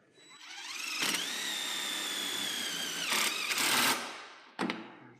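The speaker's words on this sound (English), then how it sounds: "I'll take my drill with my driver extension and a stainless self-tapping drill" A power drill with a driver extension drives a stainless self-tapping screw while attaching rafters to a beam, whining steadily at high speed for a couple of seconds, then revving harder in a short burst before stopping, followed by a sharp click.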